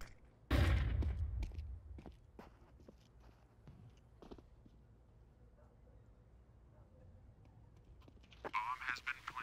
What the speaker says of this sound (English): Flashing. Deploying flashbang.